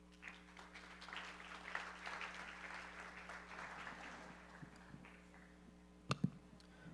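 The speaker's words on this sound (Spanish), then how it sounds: "vamos a recibir al señor Aurelio, por favor, con un fuerte aplauso" Audience at a business forum applauding to welcome a speaker, moderate clapping that builds then tapers off, followed by a couple of sharp clicks or knocks near the end.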